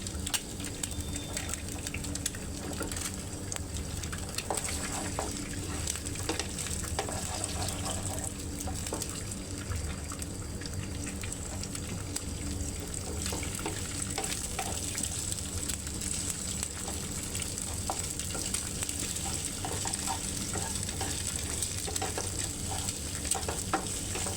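Steady sizzling of egg frying with onions in a hot pan continues throughout, with faint stirring and occasional soft clinks.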